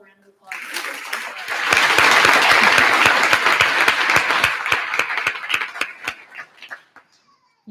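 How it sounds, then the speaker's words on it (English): A school audience claps for eighth-grade graduates at their graduation ceremony, with broad, steady applause swelling for several seconds and then thinning into scattered individual claps before fading out. "Let's give them all a round of applause."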